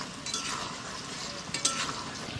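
Paneer being mixed with turmeric, salt and ground spices and lightly sautéed in a pan, giving a soft continuous sizzle with faint scraping stirs and a small clink, close and quiet with no talking.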